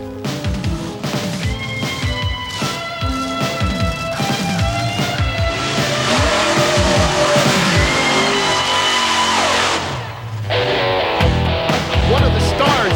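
A monster truck drives at a vintage car crushing event, its engine revving loud and close with roaring surges, crunching impacts and a rising whine, and crowd noise underneath.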